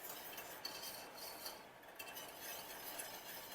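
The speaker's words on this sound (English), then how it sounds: "we're just going to stir it constantly while it's boiling" A spoon scrapes and stirs a boiling praline mixture in a pot, a soft continuous swishing with faint clinks against the metal, low and steady throughout.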